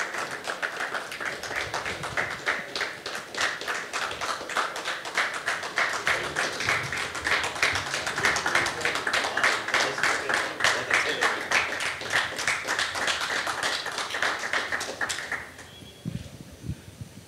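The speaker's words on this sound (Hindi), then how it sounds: "आइए बिहार की बात के इस मंच पर जोरदार तालियों के साथ स्वागत करें" Audience at a political conclave stage in Bihar applauds a guest with sustained, dense clapping for about fifteen seconds before it fades out, moderately close.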